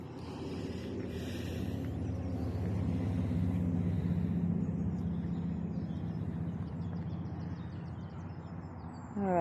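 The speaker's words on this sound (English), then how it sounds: "there's an awful lot of noise from the traffic" Road traffic near a swan pond, a continuous low rumble of passing vehicles that swells and fades, with faint bird calls on top and no speech.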